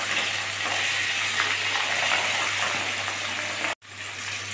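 Catla fish pieces fry in hot oil until reddened, giving a loud, continuous close-up sizzle with bubbling crackle that cuts out abruptly for an instant near the end, then resumes.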